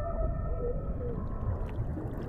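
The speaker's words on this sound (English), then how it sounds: "And somehow, all the whales keep up with the changes." Underwater whale song, a few drawn-out tonal moans gliding in pitch at moderate loudness over a low, murky ocean rumble, with no voices.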